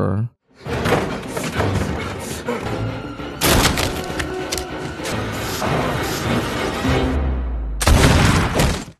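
A shotgun fires in a tense film scene near a warehouse, with loud, sharp blasts and crashing impacts erupting several times, set against a voice talking and dramatic background sound.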